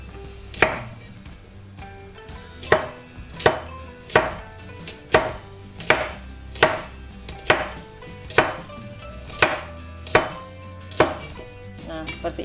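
A knife thinly slicing carrot on a cutting board for a stir-fried vegetable dish, a steady series of about a dozen crisp, evenly spaced chops, close and clear with no talking.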